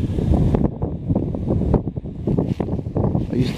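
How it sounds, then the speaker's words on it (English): Gusty wind buffets a microphone along King Edward Street in Montreal's NDG neighbourhood, rumbling loudly in uneven surges and dips. "So, it's still windy though."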